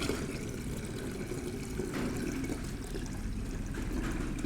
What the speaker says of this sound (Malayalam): ഞാൻ അരി കുതിർത്ത വെള്ളം തന്നെ ഒഴിച്ച് കൊടുക്കാം